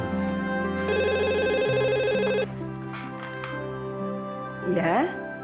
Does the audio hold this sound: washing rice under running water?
no